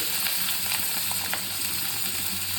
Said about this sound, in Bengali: এবার এখানে পেঁয়াজ পেঁয়াজ কাঁচা লঙ্কা রসুন একসাথে এগুলো সব ভেজে নেব আমি